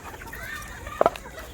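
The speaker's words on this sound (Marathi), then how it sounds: "या बघा कोंबड्या सर्व आपल्या" Chickens and roosters cluck on a poultry farm, a close cluster of short, sharp clucks over a low murmur of other birds, with no voices.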